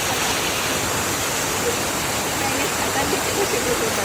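A waterfall fountain beside a swimming pool pours in a steady, dense rush of falling water, constant and fairly close, with no pauses or distinct events.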